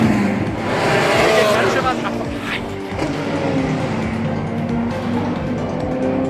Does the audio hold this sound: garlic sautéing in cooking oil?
no